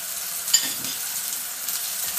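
Irish-style bangers sizzle and spit steadily in a hot pan, a continuous bright crackling hiss with one sharper pop early on, close and alone without talk.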